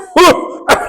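A man deliberately fakes a cough, voicing a few short throat-clearing coughs in quick succession as an imitation of someone masking laughter.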